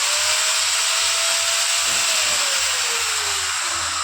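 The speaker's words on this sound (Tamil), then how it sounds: "கட்டிங் மிஷின் எடுக்கிற பாருங்கள் எப்படி இருக்குன்னு" A Powerbilt 1500W power tool cutting machine runs loud and steady at close range, its high whine holding throughout while the pitch slowly sags, with a rhythmic low pulsing beneath.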